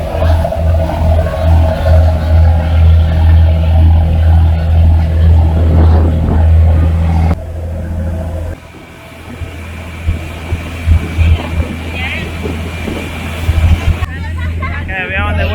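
A loud, throbbing fishing boat engine chugs steadily for several seconds off the Cham Islands, Vietnam, then cuts to quieter surroundings with people talking and scattered clatter.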